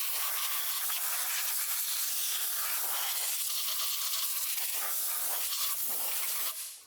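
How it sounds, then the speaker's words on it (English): Compressed air blows on a water pump from a 5.7L HEMI RAM 1500. The jet makes a loud, steady hiss up close that lasts several seconds and then cuts off abruptly at the end. "Get some compressed air."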